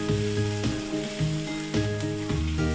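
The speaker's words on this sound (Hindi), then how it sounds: "हम इसे थोड़ा सा इसी में सौते कर लें ताकि हल्दी जो है हल्का पक जाए।" Prawns fry with turmeric and salt in a hot pan, giving a constant close sizzle broken by several soft stirring scrapes at a fairly even rhythm, with no talking.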